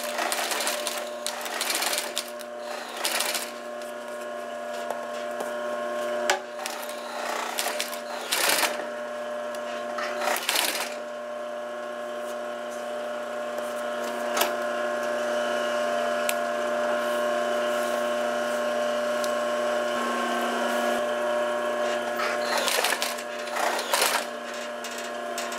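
A sewing machine stitches the sides of a straw clutch, running in several short whirring bursts with brief pauses, then settling into a longer steady run, close and moderately loud with no talk.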